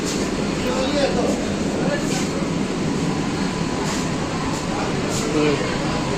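A new AC local train on the Sealdah–Ranaghat line heard from inside, with a steady loud rumble, air-conditioning hum and faint rail clicks. Muffled voices run underneath.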